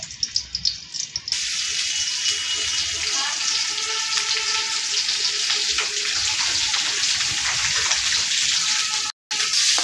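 Onion and green chili frying in oil in a wok, a steady loud sizzle and crackle that carries on without a break, with a short gap near the end.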